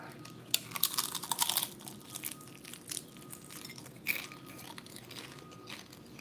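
Crispy crunchy skin is bitten and chewed close up, with bursts of sharp crackling crunches followed by softer chewing and scattered crunches.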